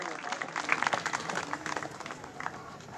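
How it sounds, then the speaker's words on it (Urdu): Short burst of audience applause at a deforestation seminar in a government high school hall in Pakistan, scattered clapping at moderate volume mixed with murmuring voices, dying away within a few seconds. "تالیاں."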